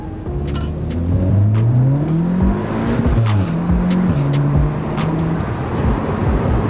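A VW Mk7 Golf R with a Stage 1 Plus tune revs hard through the mid-range, the engine and exhaust note climbing and dropping across gear changes with sharp crackles, loud and close throughout.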